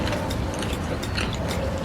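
Close, loud crunching of crispy African food such as shrimp, eaten at a mukbang, with a steady run of crisp bites and chews in quick succession and no talking.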